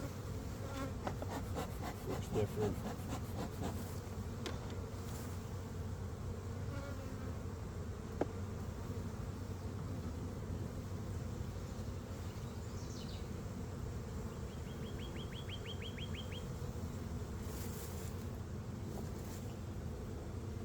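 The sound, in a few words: honey bees buzzing at hive entrance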